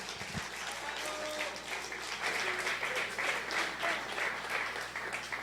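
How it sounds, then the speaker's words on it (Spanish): Congregation applauding during a church worship service, a sustained wash of clapping at moderate level in a reverberant room, with faint voices mixed underneath. "dale un aplauso"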